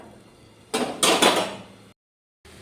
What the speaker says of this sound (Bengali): একটু ঢাকা দিয়ে দিচ্ছি আমি এবার।